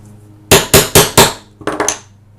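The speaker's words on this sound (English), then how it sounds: "and then you set the eyelet." A hammer sets a metal eyelet through chipboard for a mini paper album: four sharp, evenly spaced strikes ring out close and loud, followed by a quicker cluster of lighter taps.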